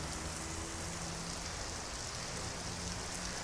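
Steady rain falls during a ride through Raleigh, North Carolina, an even hiss of drops pattering on surfaces with no pauses and no voices, moderately quiet and unchanging throughout.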